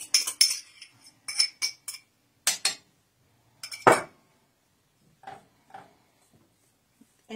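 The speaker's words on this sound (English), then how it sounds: "We are going to need 2 eggs that we are going to put in here, and then we're going to mix that around." A utensil clinks and scrapes against a bowl in short irregular bursts while two eggs are mixed in for cornbread batter, with one louder knock and quieter taps between gaps of silence.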